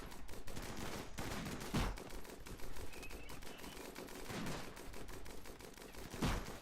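Gunfire from a RimWorld raid plays at low level as rapid, dense bursts of small shots that run almost continuously, with a few louder individual shots standing out.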